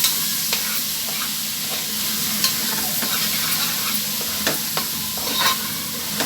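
Curry leaves frying in hot oil for a South Indian curry give a steady, close crackling sizzle, with occasional sharper pops and light stirring taps throughout, and no talking.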